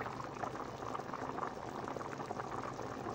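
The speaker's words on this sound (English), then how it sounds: "I am boiling the beef" Beef bubbles in a pot of Filipino nilaga soup, giving a soft, continuous seething sound. It is faint and steady throughout, with no voices.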